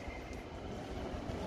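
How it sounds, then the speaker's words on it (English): A train rumbles in a low, continuous drone at a train station, steady and moderately distant, with no voices. "In the train station."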